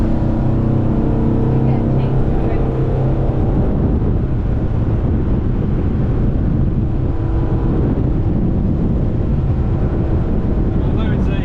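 A SAY 42 motor yacht runs at 40 knots on a calm sea, with a steady engine roar and rushing water and wind noise, continuous throughout.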